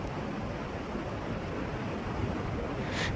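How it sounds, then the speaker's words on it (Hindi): Rushing Ganga river water at Gangotri, a steady broadband roar of flowing waves with wind buffeting the microphone, continuous and close throughout with no talking. "अभी आप ना गंगा जी की लहरों की आवाज़ सुनाई दे रही होगी आपको"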